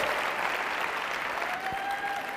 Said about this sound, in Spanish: Venga el aplauso, por favor, muchas gracias.